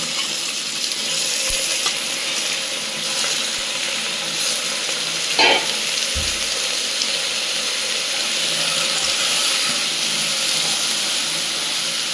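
Washed chicken goes into onions frying in a pan for yakhni pulao, making a continuous, even sizzle with a few soft knocks, heard close up with no talking.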